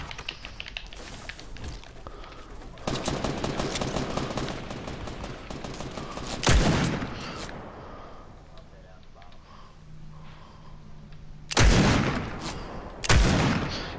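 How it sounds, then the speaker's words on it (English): Gunfire in the video game Fortnite during a squad match: a spell of rapid cracking shots followed by several loud, sharp bursts, with players talking throughout. "Someone is shooting at me."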